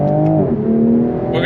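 A 2026 Toyota Supra Mk5 Final Edition in sport mode under full throttle, its engine note loud and close with a brief rising pitch that dips as a gear changes.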